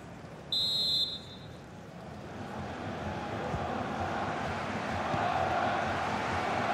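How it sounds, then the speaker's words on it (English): A referee's sharp final whistle blows once in an FC 24 football match, Germany versus Hungary at EURO 2024, then stadium crowd noise swells and roars steadily. "And the final whistle"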